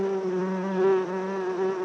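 A bee buzzes close by in a butterfly tree forest, a steady, continuous hum that swells slightly midway, heard alone without talking.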